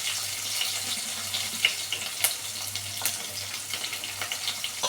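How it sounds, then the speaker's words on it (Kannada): Cumin seeds and onion sizzling in hot oil for radish saaru, a steady crackling hiss with scattered small pops throughout, close and fairly loud, no talking. "ನೋಡಿ ಚಟಪಟ ಅಂತ ಇದೆ."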